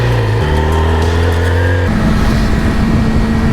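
A car and a Triumph Street Triple RS motorcycle drive past, their engines loud and close with steady droning tones that drop in pitch as they go by, then turn to a rough, broad roar.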